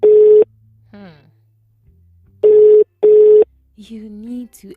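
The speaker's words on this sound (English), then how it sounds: "You need to answer the phone." A telephone ringback tone on an outgoing call, three steady tonal bursts with pauses between them, loud and close, with brief faint voices in the gaps.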